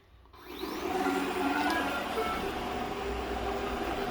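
A Shark robot vacuum, fitted with a cheap replacement wheel, runs across a floor with a steady whirring motor hum that starts after a brief quiet moment and holds at an even level.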